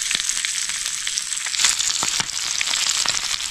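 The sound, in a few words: popping and sizzling of fish frying in a pan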